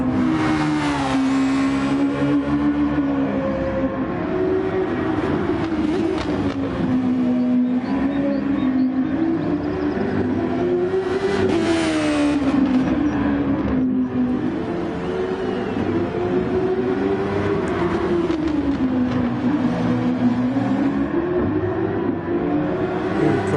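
A race car in the Gran Turismo Sport racing game laps the Autopolis circuit, its engine a loud, steady drone that rises and falls in pitch with each gear change and corner, heard close and continuous.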